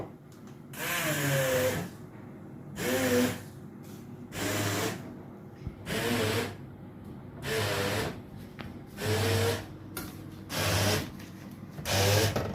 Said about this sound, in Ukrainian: І буду блендерком збивати.